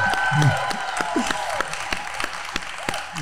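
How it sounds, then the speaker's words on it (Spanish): A studio audience applauds a guest briefly, with scattered claps under a voice speaking warmly, fading out after a few seconds. "Damos un aplauso con mucho cariño a Maurice."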